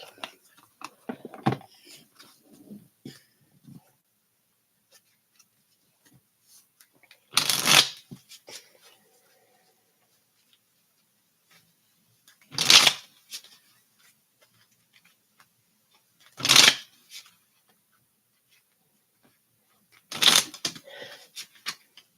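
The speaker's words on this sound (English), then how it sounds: "the shuffle feels and sounds hard" Gypsy Oracle cards being shuffled in four distinct bursts spaced several seconds apart, close and crisp, with faint rustling and quiet handling in between.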